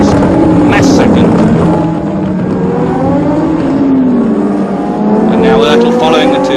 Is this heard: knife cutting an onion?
no